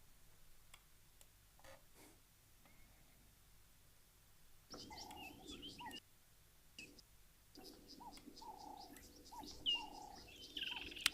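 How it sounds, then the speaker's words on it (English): A woodland kingfisher calls in a natural outdoor setting, with repeated bright trilling phrases rising out of quiet ambience alongside faint ticking insects and other birds, moderately distant. "Woodlands kingfisher calling as well now."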